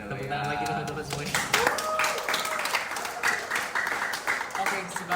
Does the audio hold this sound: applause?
yes